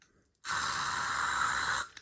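A spray bottle of cleaner fires one long, steady hiss onto a traffic light being cleaned, close and loud, starting abruptly and cutting off after about a second and a half.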